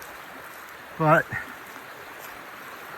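A creek running right beside a walking path, a faint steady wash of flowing water heard throughout, briefly interrupted by a single short spoken word.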